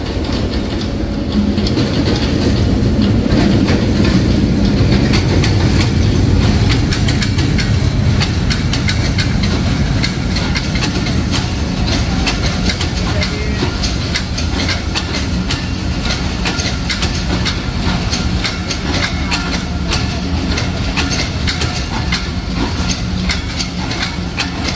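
Rajshahi Commuter train bound for Rohanpur from Ishwardi rolls into Abdulpur Junction, a loud, steady rumble of wheels and carriages with continuous clickety-clack, heard up close for the full stretch without talk.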